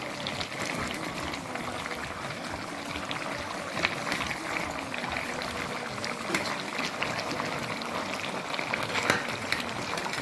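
Potatoes boil in a pot of water for a mutton curry, a continuous close bubbling and simmering that carries on evenly with no talk over it.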